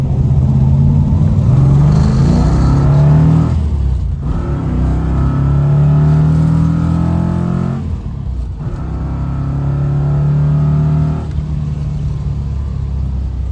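A 1970 Dodge Challenger T/A engine revs loudly and close while driving, with three rising pulls through the gears, each broken by a brief dip at the shift.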